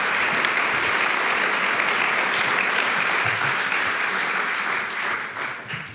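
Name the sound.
hall audience applause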